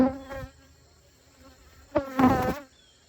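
Honeybees swarm close around a beekeeper tending hive boxes, their buzzing rising in two loud bursts, one brief and one longer, with quieter humming in between.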